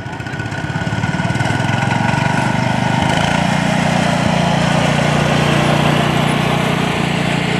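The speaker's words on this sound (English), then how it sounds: "She's driving a 72 Cub Cadet, and it looks like she's got some family in tow as well." A 1972 Cub Cadet garden tractor's small engine runs steadily as it drives along in an antique tractor parade, its mower-like drone building over the first second and then holding loud and close.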